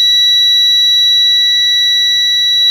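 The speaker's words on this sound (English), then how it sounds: "the disconnected sensor should beep when vertical" A multimeter continuity beep testing a tilt switch: a steady electronic tone holds continuously at high pitch, loud and unbroken, with no other sounds around it.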